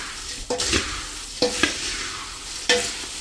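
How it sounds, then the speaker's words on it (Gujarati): A puffed rice chevda mixture is stirred in a pan, three separate scraping, rustling strokes close up with quiet pauses between them. "અને હવે આને આપણે મિક્સ કરી લેશું બધું"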